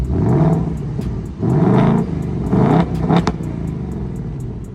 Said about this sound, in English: If you click lock and unlock, then it revs itself.